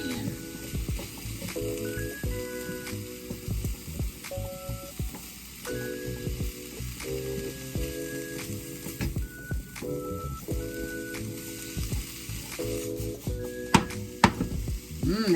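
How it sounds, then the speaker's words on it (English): Apple fritters dusted with cinnamon frying in oil, a soft continuous sizzle at moderate distance, with faint tonal sounds in the background and a few clicks near the end. "I just sprinkled a little bit of cinnamon on them because they're gonna fry."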